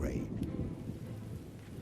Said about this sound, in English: Then it began to rain.